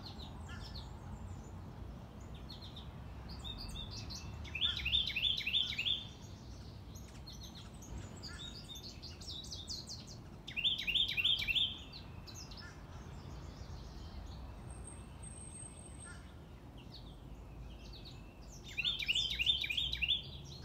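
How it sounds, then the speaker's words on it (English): Birds sing in a garden in the early morning, with bursts of bright chirping song recurring about every six seconds over a steady low outdoor hum, fairly close and alone with no talking. "The birds keeping me company."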